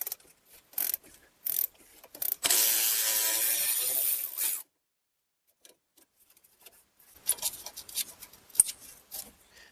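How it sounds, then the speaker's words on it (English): Ratchet working an 8 mm bolt that holds a brake hose on a Ford Escape/Edge during 6F35 transmission removal: scattered close clicks, a long steady ratcheting stretch, a pause, then more clicking and handling noises. "Remove this 8 mil bolt here holding our brake hose"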